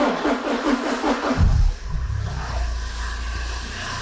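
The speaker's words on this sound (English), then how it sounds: "and run the engine." A car engine idling steadily after start-up, with a multi-point fuel injection system being tested at the bench. It is a low, even rumble held for several seconds, close and moderately loud, with no talk over it.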